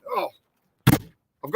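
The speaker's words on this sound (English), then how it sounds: "Try to shut the door." A single solid thunk of a door being shut lands between bits of speech, short and close, in a small heated space on a windy, freezing day.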